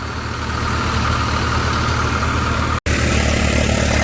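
A tractor engine runs at a steady drone in a paddy field during harvest work. It sounds loud and close, with one momentary dropout, and no voices.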